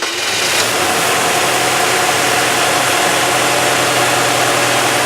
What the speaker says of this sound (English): There you go, it runs now on the new fuel pump.